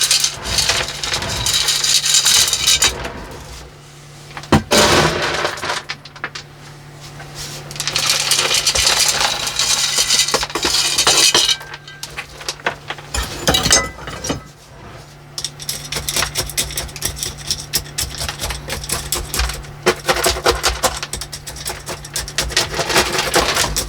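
Soil scooped and pressed around a repotted Scots pine, giving bursts of gritty scraping and rustling interrupted by short pauses and a few sharp knocks, close and fairly loud.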